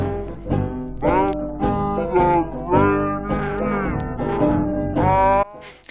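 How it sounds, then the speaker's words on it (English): A 78 RPM record played at 45 RPM, slowed-down song with a sluggish, low-pitched singing voice and instruments sounding dragged and deep throughout. "this is a 78 RPM record playing at 45"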